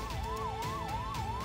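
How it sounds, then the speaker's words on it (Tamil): An ambulance siren wails up and down in a steady cycle, passing through a crowd at an outdoor political campaign rally, heard at moderate distance over a dense background murmur with no clear talk. "குறுக்க ஒரு ஆம்புலன்ஸ் வந்தது"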